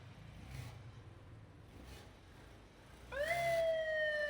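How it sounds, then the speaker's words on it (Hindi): A siren on a vehicle that is not a rickshaw switches on partway through, a loud steady electronic wail that holds its pitch, following a stretch of quiet background rumble. "अंदर सायरन अभी ऑन है"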